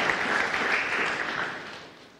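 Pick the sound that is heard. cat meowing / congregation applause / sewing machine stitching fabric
congregation applause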